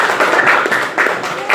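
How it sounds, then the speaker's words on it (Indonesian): Classroom applause from students, a brief burst of clapping close by filling the clip, with no one talking. "Tepuk tangan."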